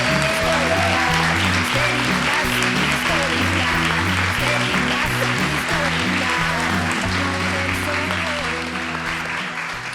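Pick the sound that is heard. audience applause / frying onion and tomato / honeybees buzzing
audience applause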